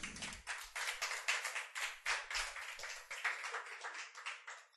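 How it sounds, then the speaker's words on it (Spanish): A church congregation claps together in strong, rhythmic bursts, loud and close, filling the space as an offering of applause during a sermon. "¿Le sueltas una ofrenda de aplausos a papá Dios por eso?"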